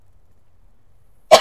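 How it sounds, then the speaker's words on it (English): After near silence, a single short cough bursts out at the very end, close and fairly loud. "I apologize for the coughing."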